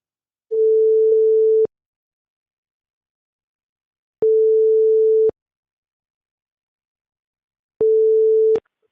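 Telephone ringback tone on an outgoing sales call, three long steady beeps evenly spaced with silence between them, clear and alone.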